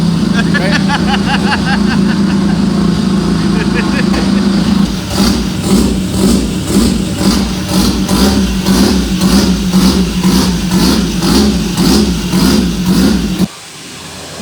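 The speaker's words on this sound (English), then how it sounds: "it sounds on point now. Sounds like a real rotary." A built four-rotor rotary engine in a Volvo runs near the microphone, first with a steady drone, then a loud choppy, pulsing idle with a rhythmic rasp, cutting off abruptly near the end while people talk.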